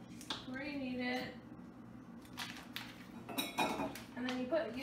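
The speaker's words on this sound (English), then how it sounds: "so you just cut the butter" A knife cuts through butter in a kitchen demonstration, making clinks and scrapes of cutlery against a dish, with several short taps and clatters. A person talks throughout, and the kitchen sounds come between and under the speech.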